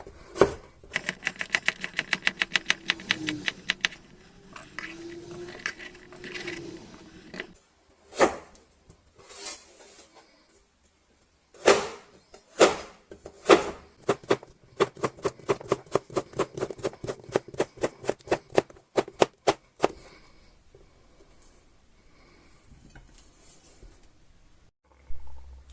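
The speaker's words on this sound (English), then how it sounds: "I'm going to cut them like this in thin slices." A knife slices potatoes into thin slices on a cutting board for a Spanish tortilla, in bursts of quick, crisp rhythmic cuts separated by short pauses, close and clear with no talking.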